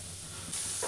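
Paneer frying in a pan gives off a steady, soft hiss of sizzling oil that rises slightly toward the end, with no one speaking.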